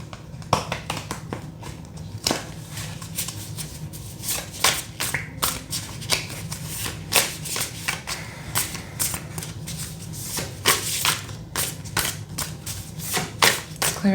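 A deck of Light Seers Tarot cards is shuffled by hand in a continuous run of soft riffles and papery taps, close and steady throughout, with no one speaking.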